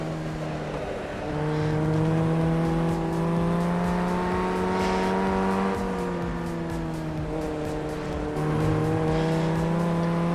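Formula 1600 race cars slide around on cold tires in a sim racing game, with loud steady engine drones whose pitch rises and dips as the cars move, tires squealing faintly beneath, and no talk.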